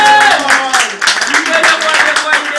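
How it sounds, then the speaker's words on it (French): A church congregation claps close by, a dense rhythmic clapping mixed with singing voices and tones throughout the short burst. "Applaudissons pour la parole de Dieu."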